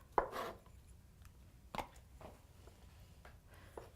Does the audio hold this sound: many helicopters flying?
no